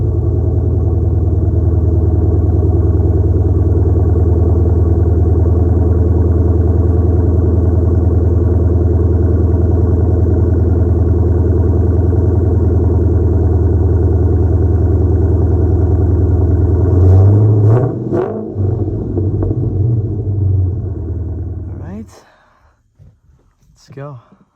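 Dodge Challenger SRT-8 V8 engine and exhaust rumbling steadily from inside the car on a street drive in Jalisco, a loud continuous low drone that shifts around 17 seconds before cutting off near the end.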